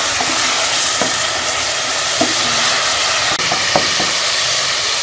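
Beef pieces and bones stir-fried in a pot for nihari produce a loud, dense, continuous sizzle, with occasional scrapes and knocks of a spoon against the pan.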